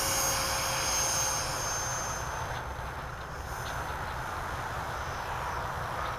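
A Freewing Rebel V2 RC jet plane takes off on its first flight with a steady, loud ducted-fan whine and roar. The sound eases slightly as the plane climbs away.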